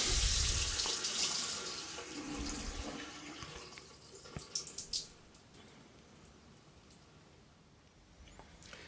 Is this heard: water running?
yes